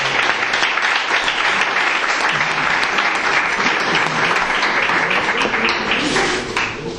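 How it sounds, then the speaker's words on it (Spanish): A lecture audience at a flamenco studies conference claps in a dense, sustained round of applause that stays loud throughout before easing slightly at the end. "Así que un aplauso."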